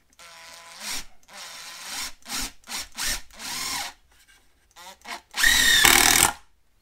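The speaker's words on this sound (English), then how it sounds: "We're going to go and run a 3-inch screw." A cheap 2019 impact driver sinks a 3-inch screw into wood, with short stop-start bursts of motor whine followed by a louder, sustained hammering rattle near the end, all close and loud.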